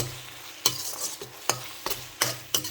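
Masala fries in a pan for a spicy veg macaroni, with a spoon striking and scraping the pan in about six sharp strokes over a low sizzle, close and clear, no talking.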